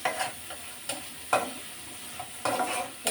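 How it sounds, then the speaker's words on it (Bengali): Dried fish sizzling in a pan while being stirred, close and steady, with a run of scraping strokes over a constant frying hiss. "তো শুটকিগুলো প্রথমে আমি একদম ভাজা ভাজা করে নিচ্ছিলাম,"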